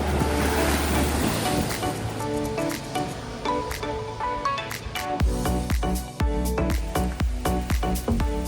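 Gusty wind buffets the microphone on the coast of Malta with rumbling thumps and rushing noise, alongside waves washing nearby.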